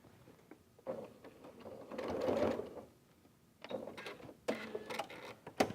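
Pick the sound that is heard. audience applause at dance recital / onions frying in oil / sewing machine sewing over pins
sewing machine sewing over pins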